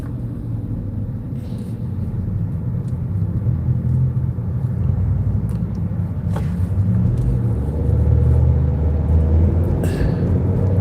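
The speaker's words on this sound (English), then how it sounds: "Now I'm going to squeeze the brake and you're going to see the car gradually slow down." A car braking and gradually slowing, heard from inside as a steady low road rumble and engine drone that shifts slightly as speed drops.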